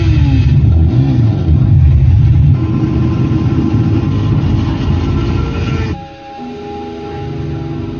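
A 2024 Honda Amaze's i-VTEC petrol engine revs loudly up close, then its roar drops suddenly to a lower, steadier drone.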